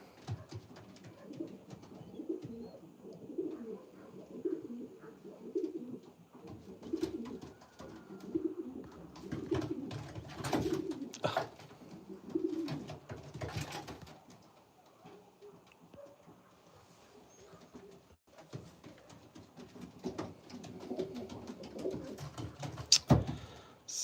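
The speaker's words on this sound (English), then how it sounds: "So a lot of these birds in here" Pigeons coo over and over inside a loft where young birds from the previous season's breeding are kept, a soft rolling chorus that runs throughout, with shuffling and wing flutters adding brief bursts, and no talk.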